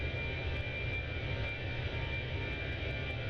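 Continuous airliner engine drone in Microsoft Flight Simulator 2024 with a Fenix airliner, an even low rumble with a thin steady whine above it, alone and unchanging for a few seconds.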